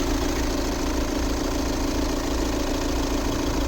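A 2014 VW Tiguan 2.0 TDI diesel with 4x4 and seven-speed automatic idles steadily, a constant close-up engine drone with a faint rhythmic knock and no talking.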